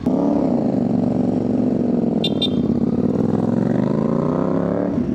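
A Kawasaki ZX6R sport motorcycle that has a check-engine warning idles close by, running loud and steady with an even drone, and two brief clicks are heard partway through.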